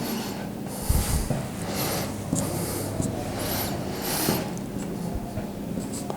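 Chalk or marker scratches and taps against a board during a physics lecture on electromagnetic induction, in short bursts of strokes separated by pauses, close and moderately loud over a faint room hum.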